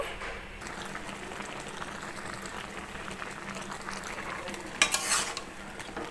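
Data shak greens being mixed with salt and turmeric in a pan, a soft continuous stirring and light sizzle with a brief sharper scrape of a utensil near the end.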